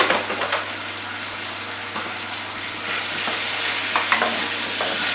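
Pears and nuts caramelize in a pan, with a soft, steady sizzle under close scraping of a spoon as they are stirred, and a few sharper clinks against the pan.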